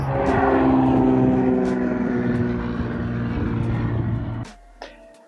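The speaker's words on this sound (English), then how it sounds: "You come here and you just watch planes take off." A propeller aircraft drones loudly overhead at a plane spotting bench in Corona, a steady engine roar with a clear whining tone that holds, then cuts off sharply, leaving a quiet outdoor background.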